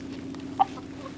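A chicken in a garden pen gives a single short cluck over a low, steady background hum.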